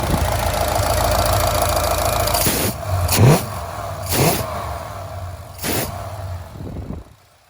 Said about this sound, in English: We are back in the Lincoln after the fuel injection install